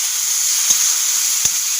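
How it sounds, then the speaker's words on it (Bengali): Spice paste of chili and turmeric powder sizzles loudly in hot oil as a little spice water is added for a Bengali fish curry. The hiss is steady and close, with a couple of faint taps from the pan. "মশলাটাকে কষানোর জন্য আমি মশলার জলটা একটু দিয়ে দিচ্ছি।"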